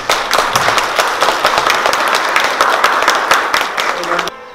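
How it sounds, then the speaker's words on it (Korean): An audience claps at a Korean promotional event for the 2026 expo, a dense run of hand claps that holds for several seconds and then cuts off abruptly near the end. "박수 한번"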